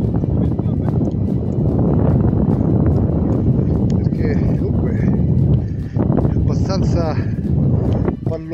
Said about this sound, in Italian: Tira un bel venticello